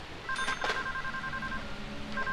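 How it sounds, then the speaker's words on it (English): A telephone in the Deadly Premonition video game rings with a steady electronic two-tone trill, sounding in short repeated bursts near and clear, with a brief clatter at the start. "Ooh, a phone."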